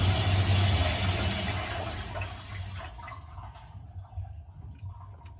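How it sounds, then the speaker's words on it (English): Water rushes out of a water heater drain valve in a steady, loud gush that gradually thins toward a quieter trickle with scattered drips. "Let the water drain out."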